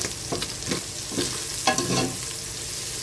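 Ginger and garlic frying in a pan for beef papaitan, a continuous close sizzle with rhythmic scraping strokes of a spatula stirring, no one talking.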